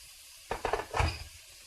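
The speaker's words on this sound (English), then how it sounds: "Add a drop of water." Water splashes into a pot of mutton curry with tomatoes, making a short burst of sizzling and clattering that lasts about a second, then fades into quiet room noise.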